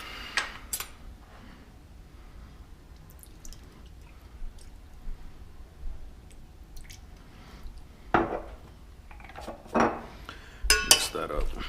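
Chicken and broccoli stir fry being mixed in a pan after soy sauce is added, giving soft scraping and clinking of utensil against the pan, quiet at first and growing busier with sharper clinks toward the end.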